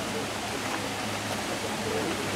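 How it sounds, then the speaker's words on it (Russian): A waterfall near Gelendzhik on the Black Sea coast roars as a steady, dense broadband rush, loud and close, with no break over the short stretch and no voices. "перед вами водопад"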